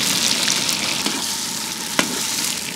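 Chicken pieces stir-fry in a hot wok with a continuous close sizzle and scattered spatula scrapes and clicks, including one sharp knock, with no talking.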